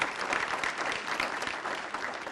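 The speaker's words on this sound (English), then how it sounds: "Let's give her another round of applause." Conference audience applauding, a dense, sustained wash of many hands clapping together in a hall, fairly distant and steady throughout.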